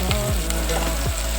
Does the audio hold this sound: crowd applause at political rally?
no